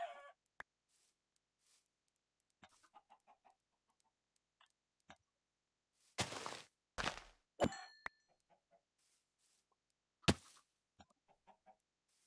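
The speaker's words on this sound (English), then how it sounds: "Look at all those chickens!" Game chickens cluck in short scattered bursts, a few louder flurries and a brief squawk standing out against long quiet gaps.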